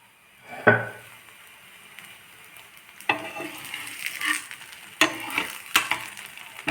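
Chana dal poli, a sweet lentil-stuffed flatbread, sizzles in ghee or oil on a pan, with a steady quiet frying hiss broken by a few sharp utensil clinks and scrapes, close by and with no talk.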